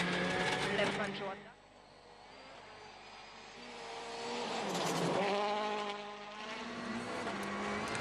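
A WRC rally car on a snowy special stage in Sweden, its engine rising and falling through gear changes and a surge near the middle, heard at moderate distance under French commentary.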